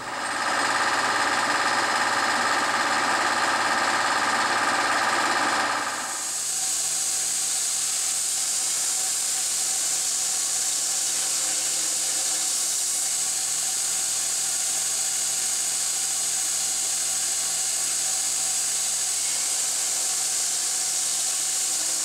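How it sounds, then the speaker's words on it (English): A power saw cuts a metal gusset for a weld jig, a loud, dense grinding whine for about six seconds before it drops to a thinner, steady high-pitched hiss that runs to the end. "do the cut all the way down and not worry about hitting the jaw"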